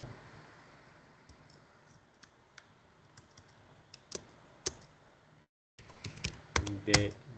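Keystrokes on a computer keyboard while an access-control list is entered for a computer network lab: sparse, irregular clicks over a low hum, then a brief gap followed by a quicker, louder burst of typing.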